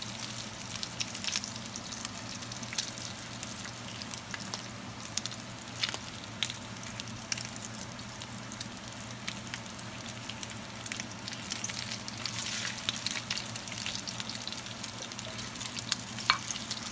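Bacon frying in a pan, nearly done, sizzles in a steady, fine crackle with scattered pops and spits, close but fairly soft, continuing without interruption.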